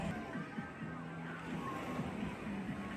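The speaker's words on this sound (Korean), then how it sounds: "처음에는 잔잔하다가 점점 커지는 파도가 마치 바닷가에 온 것 같은 기분을 줍니다" Waves rolling in an indoor water park wave pool build from gentle swells into larger surges, giving a steady wash of water with low repeated pulses throughout.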